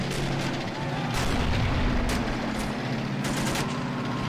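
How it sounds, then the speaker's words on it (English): Artillery fire rumbles through a toy-soldier war game's tank battle, repeated booms and sharp shots landing in irregular rhythm over a constant loud low battle roar. "They're going to be supported by the artillery."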